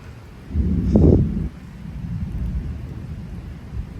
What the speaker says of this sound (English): Now it's just thunder roars.